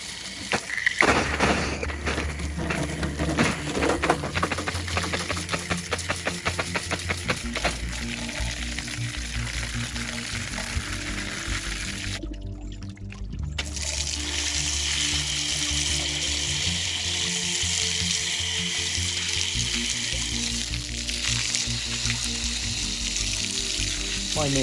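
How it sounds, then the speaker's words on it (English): Steady blast of water spraying onto a 1930s antique gasoline pump during cleaning, a continuous hissing wash running close and loud with brief interruptions. "And there's a blast of water."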